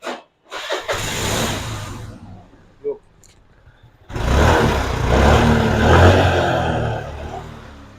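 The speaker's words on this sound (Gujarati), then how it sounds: "એન્જિન બહુ પાવરફુલ છે ગાડીનું" A car engine cranks and catches, dies back, then starts again and runs loudly with a deep, steady rumble close by.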